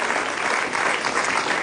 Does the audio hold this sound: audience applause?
yes